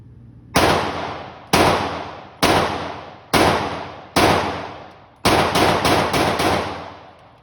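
A Shadow Systems pistol built like a Glock 19X fires close by. Five evenly spaced cracks with ringing decays are followed by a quick string of about five more, with no talking.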